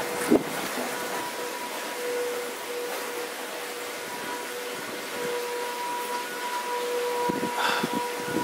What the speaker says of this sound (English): Is that the tornado siren?